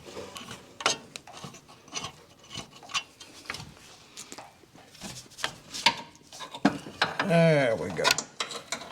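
Metal scraping and ratcheting clicks come in irregular bursts as a long-threaded bolt is worked out of the front end of a 1978 Corvette, close and moderately loud, with a brief spoken remark and a squeak near the end.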